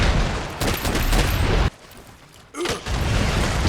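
Bowgun fire in Monster Hunter World, a rapid string of loud, close shots that breaks off briefly, then a single sharp report and the volley resumes.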